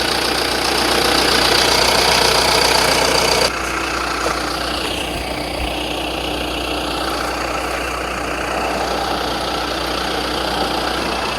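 A 2020 Kia Carnival's 2.2-litre turbo diesel engine idles with a steady, rough clatter and low rumble, louder at first and then continuing a little softer.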